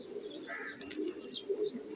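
Pigeons coo in a low, soft burble among prized pigeons, with brief higher chirps and a flutter of activity around them, close and steady without talk.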